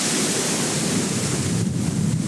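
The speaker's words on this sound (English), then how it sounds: "Hiding from the rain." Rain outside a parked 1996 Nissan Cima, a steady loud broadband wash drumming on the car without pause, with no voices.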